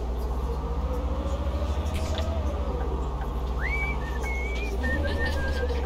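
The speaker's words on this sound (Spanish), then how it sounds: "Ya está el loro silbando." A parrot whistles a few short rising and level notes inside a bus simulator game, heard over a steady loud engine drone and road hum, with no talking.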